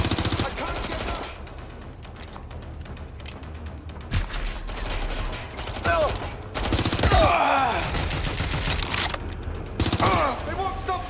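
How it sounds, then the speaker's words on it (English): Gunfire in the video game Watch Dogs Legion, with scattered shots and bursts crackling throughout a busy mix, overlapping voices and other game sounds. "They won't stop shooting!"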